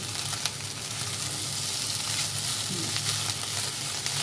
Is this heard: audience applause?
no